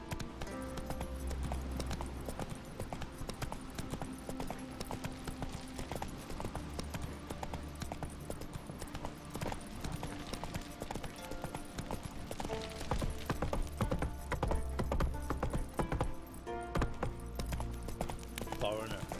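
Roach, a horse in The Witcher 3, clip-clops steadily on hooves at a walking pace through most of the stretch, with someone talking over the hoofbeats and game music and ambience underneath.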